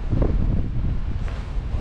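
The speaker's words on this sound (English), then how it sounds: "my God, it is windy." Strong storm wind of 100mph+ on a snowy mountain summit at 910m buffets the microphone in a steady low roar, with rustling gusts and no voices.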